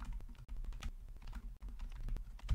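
Code is typed on a computer keyboard in quick, steady clicks, soft and close, with a couple of brief pauses.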